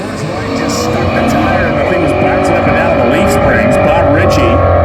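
A NASCAR-engined Plymouth Duster makes a drag racing pass, its engine roaring loud and steady at high revs with a constant, unbroken drone throughout.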